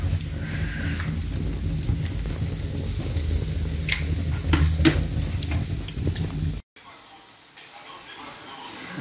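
Matambre, a rolled beef, sizzles steadily in a pan with dense, crackling frying noise and some stirring, close and fairly loud, until it cuts off abruptly near the end.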